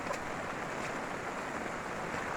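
Steady broadband roar of a flooded river rushing past with heavy water flow and debris, continuous and fairly close, with no pauses or voices.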